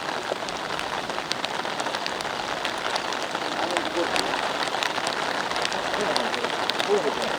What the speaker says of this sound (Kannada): ಉಡುಪಿಯಲ್ಲಿ ನಿರಂತರವಾಗಿ ಮಳೆ ಆಗ್ತಾ ಇದೆ